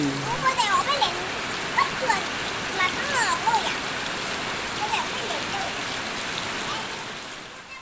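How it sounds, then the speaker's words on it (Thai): Heavy rain pours steadily during a storm in northeastern Thailand, making a loud, continuous hiss and splatter. A voice speaks intermittently beneath the downpour. "ฝนตก หนัก อีก แล้ว วันนี้ตกหนัก ทั้งวันเลย"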